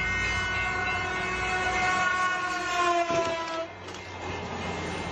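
A train rolls past at a level crossing where a barrier has broken, loud and close, with a sustained horn blast of steady tones over rumbling wheels that eases off toward the end; no speech.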